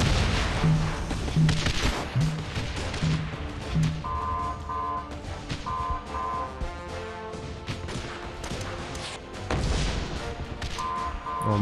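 Repeated booming blasts and crashes of cannon fire in the mobile game Guns Up! amid game sound effects and tonal beeps, several impacts spread irregularly through the clip.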